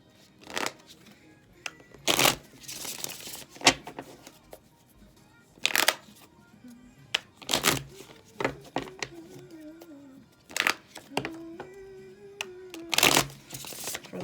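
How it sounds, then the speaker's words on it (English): A deck of tarot cards is shuffled by hand in repeated loud riffling bursts, with quieter handling and faint tonal background sounds between the shuffles. "that was the Fool and the Ten of Wands that popped out while I was shuffling."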